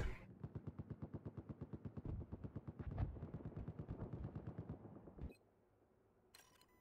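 Rapid automatic gunfire in Battlefield 4, a fast steady stream of loud close shots lasting about five seconds, then cutting off abruptly with a brief faint crackle afterward; no voices.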